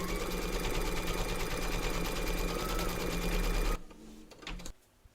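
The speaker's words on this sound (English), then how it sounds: "Pop your hoop into your machine and stitch round number 1" An embroidery machine stitches an applique placement outline in a fast, loud, steady rhythmic whir that runs for several seconds and then stops abruptly, followed by a few faint handling clicks.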